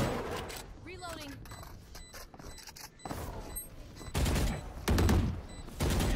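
Gunfire in a tactical shooter video game, a spike-planting round, with bursts of rapid shots and mechanical clicks of reloading while a player talks over the action.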